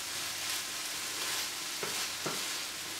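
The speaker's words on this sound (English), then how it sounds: "Mix it well and let it stir on a medium to low temperature for about 5 more minutes" A food mixture frying in a pan over medium-low heat, a continuous soft sizzle broken by two quick scraping stirs near the end, no voices.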